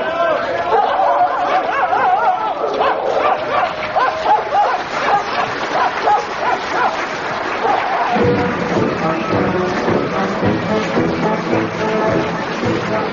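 Dogs barking and yipping in a Dad's Army radio comedy episode, several dogs yelping amid excited crowd chatter, the barking growing denser and louder in the second half under voices.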